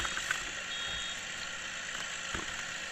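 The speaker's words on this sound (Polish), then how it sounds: "ten ciągnik jeździ za szybko" Tractor driving in a farming video game, a faint steady engine drone with a thin high tone over it, continuous and unchanging, no voices.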